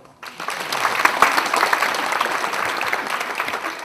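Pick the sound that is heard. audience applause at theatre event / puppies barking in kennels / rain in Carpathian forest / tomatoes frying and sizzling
audience applause at theatre event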